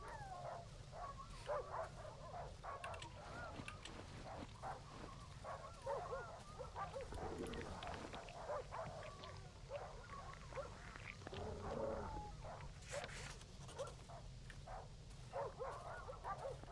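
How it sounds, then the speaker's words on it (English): Dogs in the survival horror game Darkwood bark repeatedly in irregular bursts, a mix of nearby and more distant yelps and woofs layered over a steady low ambient rumble. "That's a lot of dog sounds."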